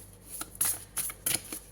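A deck of tarot cards shuffled up close in three or four quick riffling bursts, each a crisp papery flutter, with no voices.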